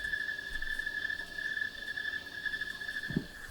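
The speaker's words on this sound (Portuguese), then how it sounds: "Aí eu vou mostrar o coro 2, que é bem diferente também. Parece um grilo." Steady insect chorus like a cricket in the lower São Francisco river region, with a continuous high buzzing band and overtones, moderately faint and unbroken, plus a brief low thump near the end.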